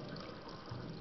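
Hot water runs steadily from a household tap just after a plumbing repair, a continuous close hiss and splash of flowing water that stays even for about a second, with no talking.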